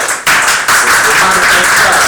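Audience applause after a conference talk: dense clapping from a crowd, steady and fairly loud after a brief quieter opening, filling the room with no voices on top.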